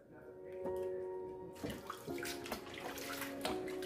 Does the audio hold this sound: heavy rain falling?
no